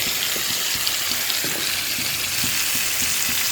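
Taro stem greens hit a hot pan with fried shrimp and sizzle steadily while being stirred, a continuous crackling hiss punctuated by soft scraping knocks, with no speech.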